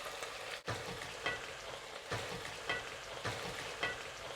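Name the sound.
stirring cornstarch solution into simmering beef suan cai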